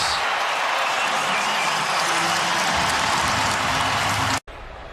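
A stadium crowd at an NFL game roars in a dense, sustained wash of cheering and applause after a Dallas kick return, loud and continuous before it cuts off abruptly near the end.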